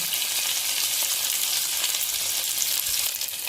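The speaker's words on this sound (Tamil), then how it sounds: "இதில் நம்ம வச்சிருக்க இஞ்சி, பச்சை மிளகாய் அப்படியே சூட்டில் போட்டுருங்க. அப்படியே நல்லா பொரிஞ்சிடும்." Ginger and green chili sizzle and crackle in hot oil for a raita tempering, a loud, dense, continuous frying hiss with no voices.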